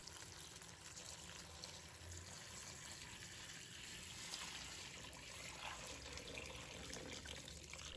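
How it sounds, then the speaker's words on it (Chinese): Clean water pours steadily into a bowl of hand-torn bok choy, a continuous soft trickle and splash that stays even and close throughout, with no talking. "倒入清水，"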